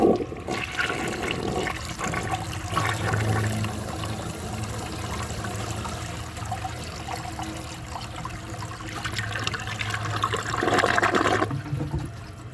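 A 1983 Mansfield Imperial toilet flushing a grocery bag down: a loud rushing flush that churns for several seconds, then settles into trickling water and a refill sound, heard close up.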